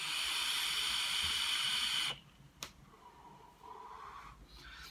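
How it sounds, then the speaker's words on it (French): Vapour from an e-cigarette charged with an 80% glycerine liquid is exhaled in a long, loud, breathy hiss that stops sharply about halfway, leaving a quiet room with a brief click and soft murmur. "On fait une belle vapeur."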